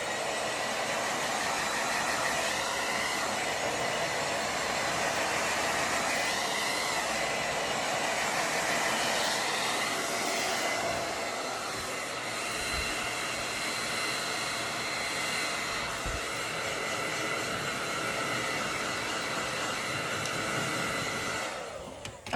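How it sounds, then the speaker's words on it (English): A hair dryer blows steadily and loudly for the whole stretch, a constant airy roar while styling hair into beach waves, with no talking over it. "blow dry just one more second"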